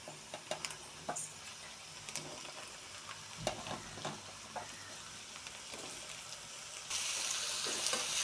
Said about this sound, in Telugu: ఈ దోసకాయ ముక్కలు కట్ చేసి ఉన్నాయి కదా, ఇవి అందులో వేసేద్దాం.